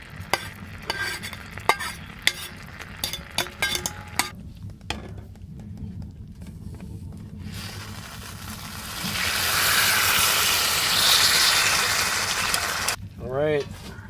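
Mushrooms warm in a pan on a camp stove at a winter hot-tent camp beside a remote logging road. Scattered clanks and stirring come first, then a steady sizzle rises and holds before ending with brief talk.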